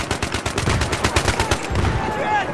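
Rapid automatic fire from a G3A3 rifle in Battlefield 3, a close, loud, steady stream of shots over a few seconds.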